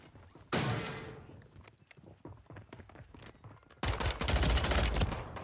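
Gunfire in Warzone 3 on Rebirth Island: a burst of shots, then scattered sharp cracks and clattering, followed by a loud sustained barrage near the end, no talking.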